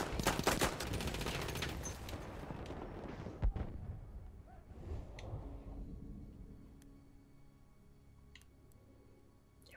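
Rapid bursts of gunfire and a loud crack in Battlefield 1, online Conquest on the Suez map, dense at first and then thinning to sporadic distant shots and clicks over quiet ambience.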